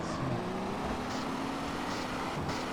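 A car engine in the video game MTA San Andreas, a car named Roket, holding a steady, dense drone with no break for the whole stretch.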